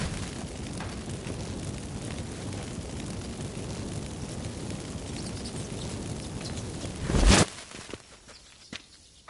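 In the Witcher 3 video game, a steady roiling rumble builds for several seconds, then a sharp, loud magical firework burst erupts near the end before dropping to a quieter hiss.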